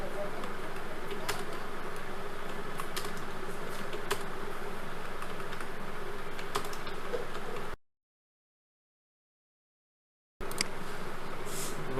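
Someone types a message on a computer keyboard, steady light key clicks over a faint background hiss, broken by a few seconds of complete silence before the tapping resumes.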